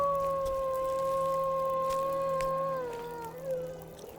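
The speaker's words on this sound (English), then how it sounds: "I don't remember there ever being any wolves up here." A wolf howls in the snowy wilderness survival game The Long Dark, a long sustained wavering cry with a held tone that slowly falls and breaks off near the end, heard over a steady low hum with no talking.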